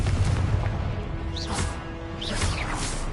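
Confringo blasting spell explosions in the Hogwarts Legacy video game: rumbling booms and crashing bursts under a dense, continuous wash of battle noise, with a couple of whooshing spell sweeps.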